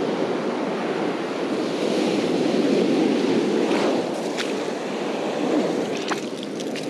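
Ocean surf washes continuously onto a sandy beach during surf fishing, a steady close roar of water with some wind buffeting and no talking.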